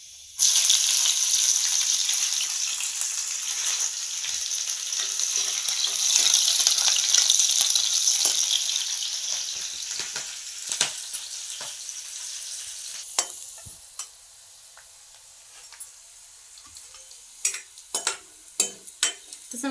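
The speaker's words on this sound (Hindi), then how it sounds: "ये भी लहसुन की तड़का लगाए हूँ काबर ना भाजी लहसुन की और ये साथ में हरा मिर्ची" Garlic and green chili tempering sizzling hard in hot oil for a Chhattisgarhi leafy greens dish, a loud steady crackle that gradually settles, broken later by sharp stirring clicks and scrapes, with no talking.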